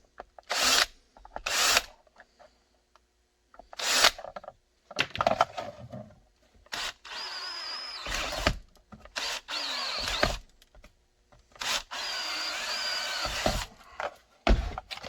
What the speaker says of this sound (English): tip is to drill before you do anything